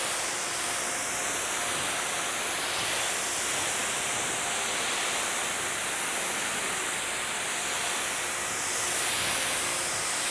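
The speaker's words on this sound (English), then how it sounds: "So let's wash this off and see where we're at." Steady, loud hiss of water spraying and rinsing over a car's exterior during detailing, continuous with no breaks and no talking.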